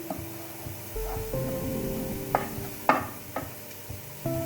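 A pan mixture with fresh green coriander gently sizzles while a utensil stirs it, giving soft scraping clicks and a few sharper knocks against the pan over steady low background hum.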